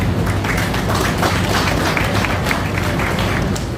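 Steady, dense applause from an audience at an outdoor groundbreaking ceremony for the Boundbrook Urban Centre in Portland, Jamaica, sustained and even throughout with no talk over it.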